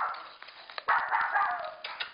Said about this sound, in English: Okay, don't bark.